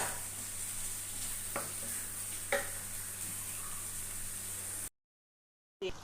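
Marinated meat sautés in a pan with a steady crackling hiss broken by a couple of sharp utensil scrapes, then cuts off abruptly into silence before a brief return.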